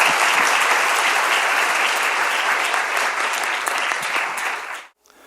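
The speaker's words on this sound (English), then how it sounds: "Please welcome Minister Jo with a warm round of applause." An audience at a Korean security forum in Seoul applauds warmly to welcome the foreign minister, a loud, dense burst of clapping that holds steady for several seconds and then stops abruptly.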